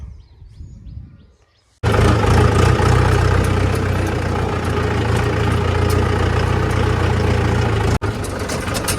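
After some faint background noise, a Mahindra 575 DI tractor engine suddenly starts and settles into a loud, steady, rumbling idle, with one brief cut near the end.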